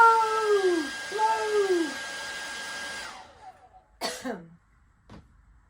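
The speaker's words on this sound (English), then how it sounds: "Even their hairdryer didn't have enough puff." A hair dryer blows with a steady whooshing hum for about three seconds, overlaid by rising-and-falling vocal howls, then cuts off, followed by a cough.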